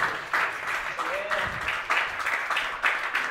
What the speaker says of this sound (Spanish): Un aplauso. Felicitaciones